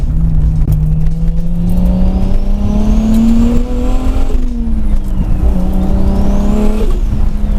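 A single-turbo Toyota Supra making 600 hp revs hard and close, its loud engine note climbing and falling through several long pulls with turbo whine layered on top and no talk.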